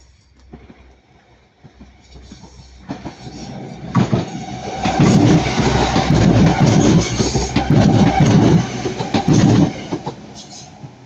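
A Pendolino electric passenger train passes close by at Ardwick, its sound building to a loud, sustained rush with rhythmic clickety-clack wheel beats over the rail joints before easing slightly at the end.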